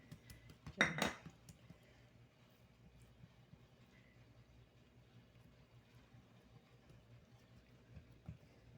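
A metal spoon clinks and scrapes once against a tray while pressing almonds onto Multani sohan halwa, a short sharp sound followed by faint kitchen quiet.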